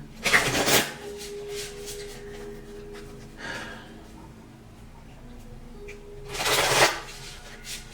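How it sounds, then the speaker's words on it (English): Tarot cards being shuffled by hand, two brisk riffling bursts close to the microphone, one at the start and another near the end, with a quiet pause between. "One more shuffle."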